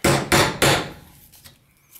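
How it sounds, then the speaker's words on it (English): A small tack hammer drives tacks into a wooden hive frame while wax foundation is installed: three quick, sharp, close taps in a row, then a few faint clicks and quiet. "So just take your little tack hammer."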